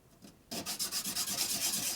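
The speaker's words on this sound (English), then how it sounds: "I'm going to deburr it down here." Rhythmic rubbing strokes of a deburring tool on a Harley shovelhead big-bore stroker motor part, starting after a brief quiet moment and repeating steadily at close range, with no talking.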